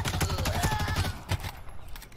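A quick burst of rapid gunfire from Halo Infinite, a string of sharp shots followed by a single louder shot, then fading.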